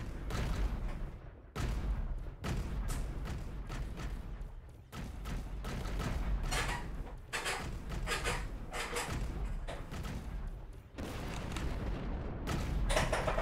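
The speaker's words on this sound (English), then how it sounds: "Let the cannons do their work." Spaceship cannons fire at pirates in the space game Avorion, a dense, continuous barrage of booming volleys and rumbling blasts with brief gaps, loud and steady throughout.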